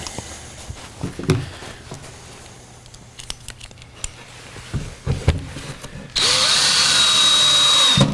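A power drill drives screws into an Adirondack chair swing outdoors: soft handling knocks and rustles first, then a loud sustained high whine as the drill runs to the end.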